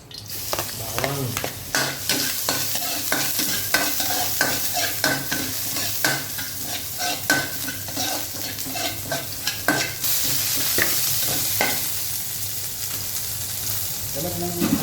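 Garlic sautéing in a pan for Filipino pancit luglug, a loud continuous sizzle with frequent quick scraping stirs of a utensil, close up, easing into steady frying toward the end.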